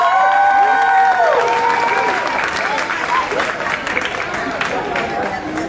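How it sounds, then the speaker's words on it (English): Applause and cheering from a crowd at a Women's Month event at the V&A Waterfront, clapping mixed with voices and shouts, loud at first and easing slightly. "So give yourselves a round of applause"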